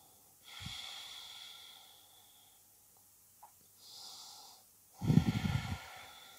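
Slow breathing during a hip stretching session, a few soft drawn breaths and exhales, quiet and close, ending with a louder, breathy exhale.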